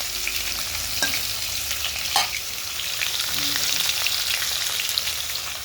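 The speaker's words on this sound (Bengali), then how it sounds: "তিনটে পিঠে করেই ভাজি ভেজে নিই সব মাছগুলো" Fish pieces fry in hot oil, a steady close sizzle and crackle that continues throughout, with an occasional clatter of stirring.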